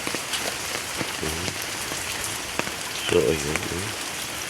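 Heavy rain pours steadily onto garden plants in a dense, even hiss, with a person talking briefly over the downpour.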